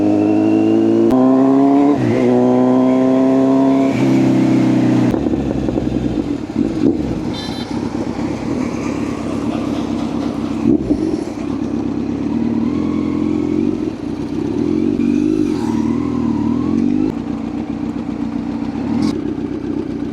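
Several motor vehicles and motorcycles pass close by on a road one after another, engines rising and falling as each goes past, with a loud steady traffic rumble between them.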